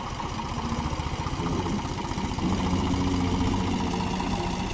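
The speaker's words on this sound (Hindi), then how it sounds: "उरे ट्रैक्टर आ गया" Tractor engine drawing near at a rural spot, a steady rumbling mid-pitched chug that grows a little louder and fuller partway through, heard alone without speech.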